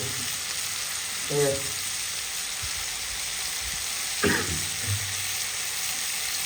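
Onion kachri frying in oil, a steady broadband sizzle with two brief clattering stirs or scrapes around the middle and near the end.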